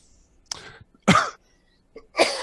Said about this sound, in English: just random coughing for no apparent reason